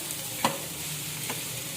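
Vegetables stir-fry over high flame in a pan, giving a steady low sizzle broken by two quick spatula scrapes close by, with no talking.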